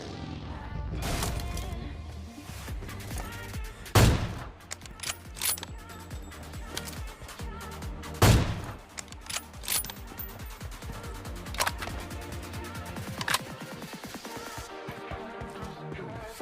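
Sharp, loud gunshot cracks ring out in PUBG on the Erangel map, two heavy reports standing out among scattered lighter pops over a dense, busy game soundscape.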